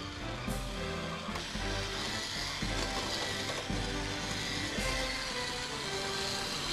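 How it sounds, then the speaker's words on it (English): An electric mixer runs steadily in a bowl of s'mores bar batter in a home kitchen, a loud continuous whirring grind with rhythmic clattering pulses as the beaters work the mixture. "And turn the mixer on again."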